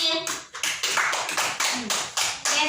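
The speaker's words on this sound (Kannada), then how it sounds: "ಚಪ್ಪಾಳೆ ಹಾಕ್ರಿ" Children clapping together in an anganwadi class, a burst of several sharp, fairly close claps in quick rhythm with some voices mixed in.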